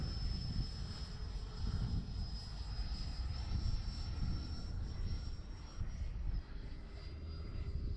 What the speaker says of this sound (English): this plane, I got landing flaps in, and boy, she will just slow right down for you